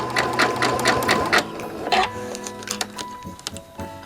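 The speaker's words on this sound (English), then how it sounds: "we're going to stitch across the corner" A sewing machine stitches across the corner of a coiled rope bowl in quick rhythmic bursts of needle clatter, with pauses and lighter ticking after the first couple of seconds, close and clear.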